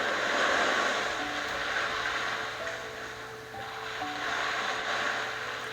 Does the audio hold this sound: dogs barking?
no